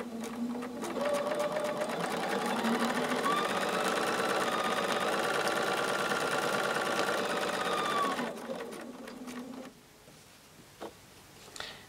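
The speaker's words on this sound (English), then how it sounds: "Now I'm going to stitch 1/4-inch away on each side of this line." A sewing machine stitches quilt block pieces in a steady, fast, buzzing run for about eight seconds, then stops. A few faint handling sounds follow, and nobody speaks.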